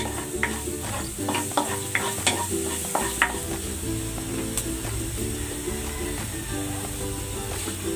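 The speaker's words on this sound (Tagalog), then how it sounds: "Nag-gisa na ako ng luya. Lagay na rin natin tong bawang." Ginger and garlic sautéing in hot cooking oil, giving a loud continuous sizzle with quick rhythmic stirring scrapes at the start that ease off into a steady fry.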